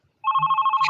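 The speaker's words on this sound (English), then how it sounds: "Is that phone ringing?" A telephone starts ringing during a live call-in show, a loud, close electronic trill that pulses rapidly without a break, with no talking over it.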